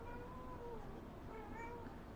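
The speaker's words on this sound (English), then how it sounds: "and my cat is meowing too." A cat meows twice in a quiet indoor room, two drawn-out, fairly faint calls separated by a short pause over a low background hum.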